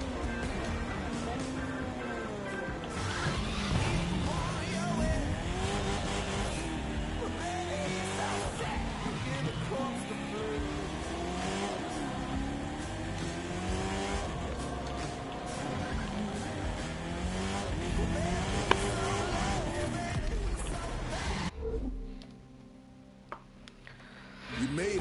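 Car driving in the video game The Crew 2, an engine revving and shifting continuously with pitch sweeping up and down over about twenty seconds, then dropping away abruptly near the end.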